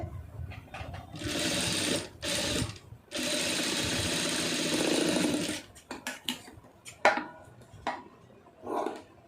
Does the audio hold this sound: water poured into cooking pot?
no